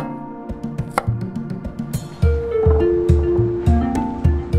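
A knife cuts peeled radish into thin slices on a board, each stroke a short, crisp chop in a steady rhythm, close and fairly loud.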